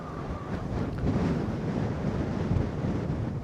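Strong wind buffets the microphone at Barangay Bato Bridge in Tagaytay, a steady, loud low roar that swells and gusts throughout with no voices.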